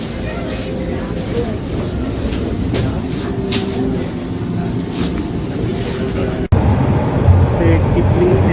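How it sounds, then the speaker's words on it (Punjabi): A Toronto subway train rumbles steadily along the line, with wheel clatter and cabin drone, a sudden louder shift near the end as the ride continues; a voice speaks over it. "ਹੁਣ ਅਗਲੀ ਟ੍ਰੇਨ 'ਤੇ ਚੜ੍ਹ ਗਿਆ ਮੈਂ"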